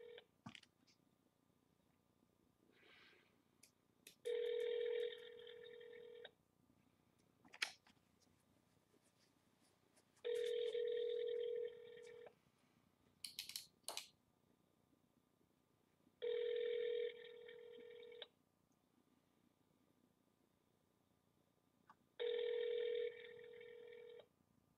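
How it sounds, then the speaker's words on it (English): An automated phone dialer repeatedly places calls, with quiet dialing tones and clicks followed by four evenly spaced, steady ringback tones separated by stretches of near silence. "Dials the next number for me."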